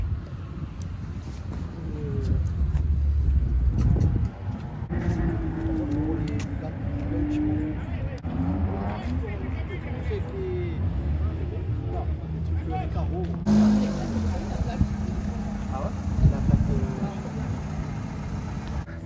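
Renault Sport cars, including Mégane 4 RS Ultime and RS Cup models, at Circuit Paul Ricard, engines droning and idling nearby under steady crowd chatter and people talking, with a rougher rising passage partway through.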